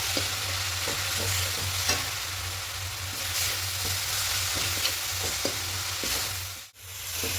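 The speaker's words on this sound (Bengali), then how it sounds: "এখানে চার চামচ পাউডার দুধ আছে দিয়ে খুব ভালো করে মিশিয়ে নেবো" Carrot filling for steamed pitha is stirred in a pan after four spoons of powdered milk are added: a soft continuous sizzle with light, irregular spatula scrapes over a low steady hum, briefly dropping out near the end.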